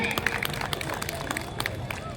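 At a school program, an audience claps steadily in a busy hall to welcome a child performer, a continuous patter of hands with crowd murmur around it.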